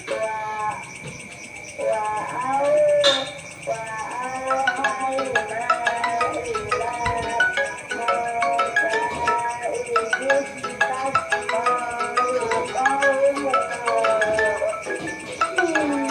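A phone ringtone melody plays on and on, a bright repeating tune with a few faint voices under it.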